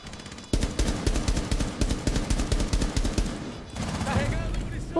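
Rapid automatic gunfire from IQ's weapon in Rainbow Six Siege, dense repeated shots sounding close and loud for several seconds, with game effects and faint voice sounds near the end.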